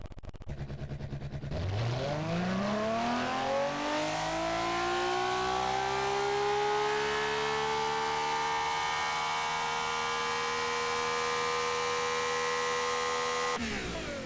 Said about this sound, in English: I'll let you hear what it sounds like here.